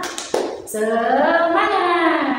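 Children in a classroom clap a few sharp beats, then chant a cheer together in unison, the voices loud and close and holding for over a second.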